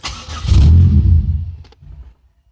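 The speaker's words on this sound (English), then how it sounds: "These 3800s seem to always stutter when they're starting up and warm" A 2004 Pontiac Grand Prix GT with its 3800 engine cranks and fires up close by, a loud low rumble that swells, holds briefly, then dips and settles into a stuttering idle.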